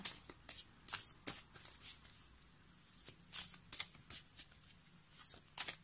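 Tarot cards, including heart-shaped cards and very large healing-energy cards, are shuffled by hand in quick close riffles and soft slaps, repeated in uneven bursts with brief pauses.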